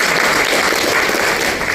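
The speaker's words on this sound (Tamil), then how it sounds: "ஒரு கைத்தட்டல்" An audience claps at a South Indian product launch event, a dense, loud burst of applause filling the short moment without pause.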